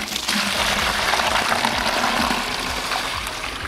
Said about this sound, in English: here I'm going to put water in this container